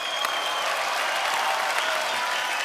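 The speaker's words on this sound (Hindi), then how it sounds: "ये तालियां जैकी जी के लिए बजाइए।" A studio audience at a TV comedy talk show breaks into loud, sustained applause, dense clapping from a large crowd that stays even and full throughout.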